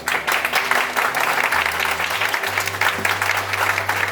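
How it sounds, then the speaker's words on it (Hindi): Congregation at a Sunday church service claps in thanks to God, a dense, steady wave of applause lasting throughout, with sustained low instrumental tones humming beneath it. "ताली बजा के परमेश्वर का हम लोग धन्यवाद करें।"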